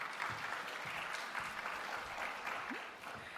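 At a European data protection conference, an audience applauds with continuous, moderately loud clapping that holds steady and tapers off slightly near the end.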